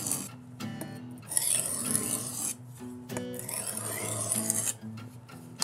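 A kitchen knife is sharpened on a sharpening stone in a series of close, rhythmic scraping strokes. Each rasping pass is separated by brief pauses.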